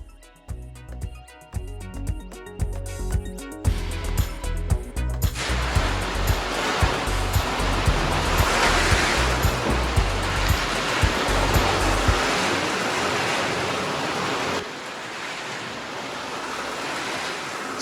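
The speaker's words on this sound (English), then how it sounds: "He's gonna spray some water at the windows, and we're hoping for the best." Water sprays against newly installed house windows during a seal test, a steady broadband hiss and rush that starts in sputtering bursts, then settles into a continuous, fairly loud spray with wind-like noise.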